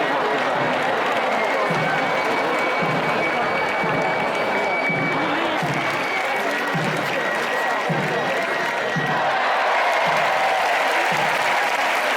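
A dense crowd at the Sant Joan fiesta in Ciutadella, Menorca, cheers and applauds loudly throughout the spearing game, a sustained roar with steady rhythmic clapping and shouting.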